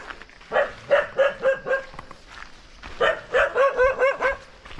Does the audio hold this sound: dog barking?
yes